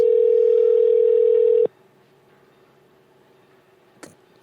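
A telephone line on a call gives a loud steady tone that cuts off abruptly, followed by near silence and a single short click.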